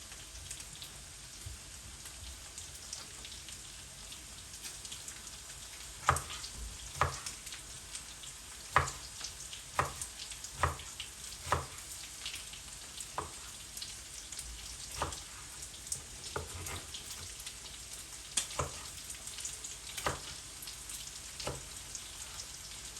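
Steady close sizzling of onions browning in a pan for Turkish saç kavurma, with scattered sharp pops and crackles throughout.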